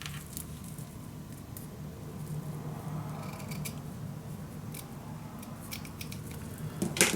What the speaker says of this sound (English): and then you can cut it shorter